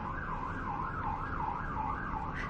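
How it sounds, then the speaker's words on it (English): An emergency siren in a city wails continuously with a rising and falling cycle, heard at a steady, moderate distance with no talk over it. "that siren in the background is so loud"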